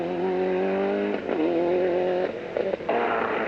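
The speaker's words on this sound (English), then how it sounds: "Liam McCarthy and co-driver Kieran Murphy have moved their escort Cosworth up 1 place into 3rd, courtesy of this performance on the stage at Glandore" A Ford Escort Cosworth rally car on a 1998 Fastnet Stages Rally stage at Glandore holds a loud, steady engine drone, then lifts off and revs again in a couple of sharp shifts.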